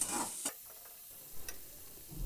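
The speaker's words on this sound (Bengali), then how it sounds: "এইভাবে খুন্তি দিয়ে ধীরে ধীরে আমি কিছুটা সময় নিয়ে একটু ভাজা করে নিচ্ছি" Onions fry in a pan for a sour fish curry while a spatula slowly stirs them, a faint sizzle broken by a couple of soft scraping clicks, with no talking.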